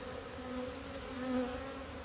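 Honeybees buzz in a steady, close hum during a February hive inspection, the drone swelling slightly partway through with no voices.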